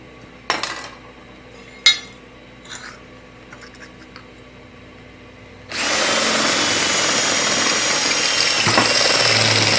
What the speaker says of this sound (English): I'll use a stepper bit to open them up a little bit.